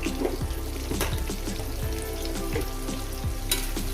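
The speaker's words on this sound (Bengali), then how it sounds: "আলুটাকে সুন্দর করে ভেজে নেব" Potatoes fry in hot oil for a fish-with-poppy-seed curry, giving a steady crackling sizzle with scattered pops and a few clinks of stirring, heard alone with no voices.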